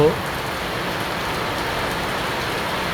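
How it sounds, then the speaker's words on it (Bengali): Steady rain falls on a cloudy summer morning, a dense, even hiss that holds at one level throughout with no clear individual drops or other sounds. "সকাল 7টা বাজে, এখন বৃষ্টি নামছে।"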